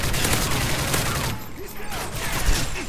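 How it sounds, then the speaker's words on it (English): An exploding barrel goes off amid dense gunfire in a multiplayer shooter game, a loud burst within continuous rattling shots and noise. "Oh my god, a random exploding barrel."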